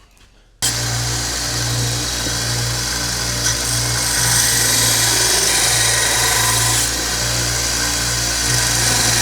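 A belt grinder with a 120 grit belt grinds the bevel of a raw steel bushcraft knife, a loud continuous abrasive whine and hiss with a steady low motor hum, starting abruptly after a brief quiet moment.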